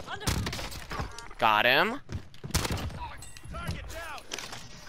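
Bursts of gunfire in Call of Duty Cold War Warzone, sharp and close, mixed with a high whistling streak and thuds while players talk excitedly over the shots.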